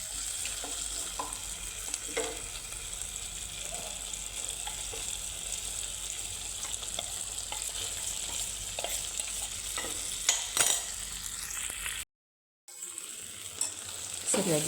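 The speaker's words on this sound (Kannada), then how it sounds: "ಈಗ ಸಬ್ಬಕ್ಕಿ ಹಾಕೋಣ." Sabudana (sago) tipped into a pan of cooked potato for khichdi and stirred, with a soft continuous sizzle and scraping of the spoon against the pan, fairly quiet, broken by a brief silent gap near the end.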